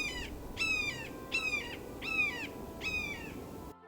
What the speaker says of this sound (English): The red-shouldered hawk sounds like this.